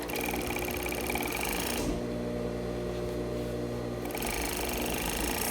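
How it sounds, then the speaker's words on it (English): A serger runs along the bottom edge of a skirt, starting at the center back, in two steady loud bursts with a brief pause between them. "the next step before I put the hem tape is to serge the edge of the bottom of the skirt"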